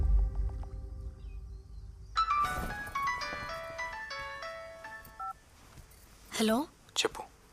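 A mobile phone rings with a short electronic melody of stepped tones during a home puja prayer ritual, after quiet murmured chanting, followed by a few sharp clicks and brief voices.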